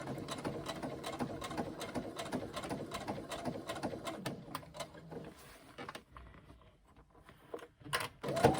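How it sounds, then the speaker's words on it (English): A sewing machine edge stitches the base seam of a tote bag with a rapid, fairly quiet mechanical whirring for about five seconds, then pauses before a brief final burst. "I just do an edge stitch across it, like a 1/8 seam or even less."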